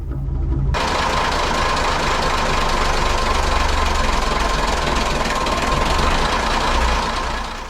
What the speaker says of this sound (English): the engine is starting to fluctuate at idle